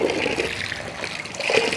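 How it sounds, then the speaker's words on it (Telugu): Hot water pours steadily from the tap of an instant geyser, a continuous splashing rush that holds a fairly loud, even level throughout the short stretch. "చూడండి, లోపలికి వెళ్ళిన వేడి నీళ్ళన్నీ బయటకు వచ్చేస్తున్నాయి."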